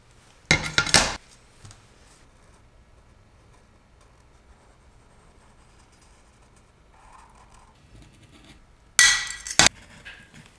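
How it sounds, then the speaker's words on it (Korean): A glass cutter scores stained-glass sheet for a polar bear piece, then the glass is snapped. There are two loud, sharp, crunchy bursts, one at the start and one near the end, with near silence and faint handling noise between them. "최대한 유리칼로 커팅해준다"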